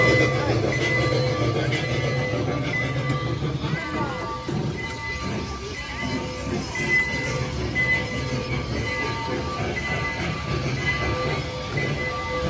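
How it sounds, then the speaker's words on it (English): A small Christmas-display choo-choo train rolls by with a steady mechanical rumble and faint wheel squeal, heard under continuous crowd noise and nearby people talking. "They got the little choo-choo train going by now."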